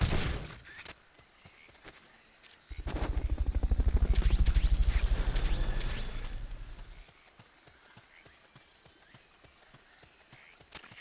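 A helicopter in Metal Gear Solid: Peace Walker, rhythmic rotor thumping swells in loudly, peaks for several seconds, then fades back to a quieter mechanical chopping.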